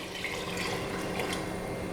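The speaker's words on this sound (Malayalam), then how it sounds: "അപ്പോൾ ഞാൻ ഇതിനകത്തോട്ട് 2-ാം പാൽ ചേർത്ത് കൊടുക്കുകയാണ്." Thin second coconut milk pouring into a Kerala vegetable stew in a pressure cooker, a steady close liquid stream running unbroken throughout with no talk.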